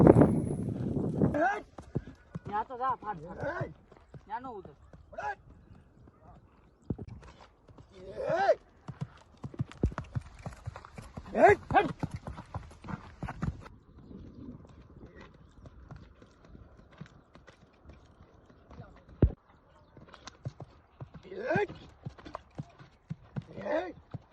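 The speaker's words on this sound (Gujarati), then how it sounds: "તો હવે ઘોડામાં છે પૂછાભાઈ બેસી ગયા છે." Horse hooves clip-clop in an uneven rhythm, moderately close, with people talking over much of it.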